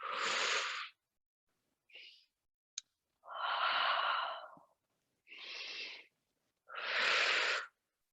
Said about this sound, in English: Big circles, straddle, reach away, inhale, and exhale, stretch, around.